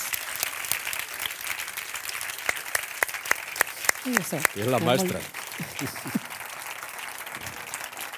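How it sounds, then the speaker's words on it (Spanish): Audience applause at a Spanish film academy event, scattered claps building into a brief burst of clapping, with people speaking over it. "un aplauso para Isia por favor"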